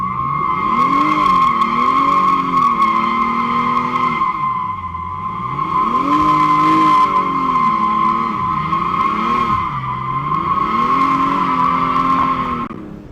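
A 2023 BMW M240i, rebuilt after a wreck, squeals steadily while driving: a constant high whine rides over the engine note as it rises and falls through repeated accelerations, loud and close throughout.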